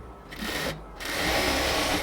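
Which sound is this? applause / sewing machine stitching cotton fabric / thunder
sewing machine stitching cotton fabric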